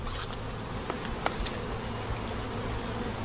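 Honeybees hum in a dense, continuous buzz on a hive frame holding queen cells, heard close up with occasional sharper flicks and taps from individual bees.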